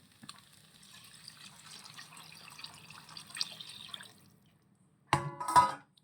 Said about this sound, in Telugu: వాటర్ అనేది మనకి ఎంత కావాలో అంత పోసుకోవాలి